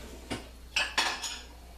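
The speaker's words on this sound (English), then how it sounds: "I'll put it in a bowl" Soft clinks of a ladle and dishware as homemade fish-stock soup with vegetables and seeds is served into a bowl: three or four brief, close knocks and scrapes over a quiet room, no voices.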